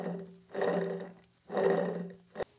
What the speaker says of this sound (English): That right there is the sound of a spindle that's completely gone.